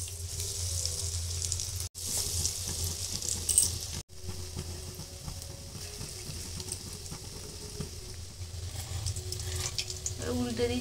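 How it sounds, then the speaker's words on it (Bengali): Cauliflower pakora coated in biscuit crumbs drops into hot white oil, bringing a steady hiss and sizzle with two brief cutoffs, heard close, and a voice briefly speaking near the end. "এভাবে বিস্কুটের গুঁড়ো মাখিয়ে নিয়ে তেলে দিয়ে দেবো।"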